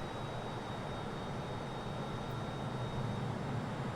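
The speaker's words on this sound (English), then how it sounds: "I gotta slow this plane down." Airplane engine in a flight video game flying over Wallace Creek at Pinnacles National Park, a steady broadband drone with a faint high whine, continuous and moderately loud with no talking.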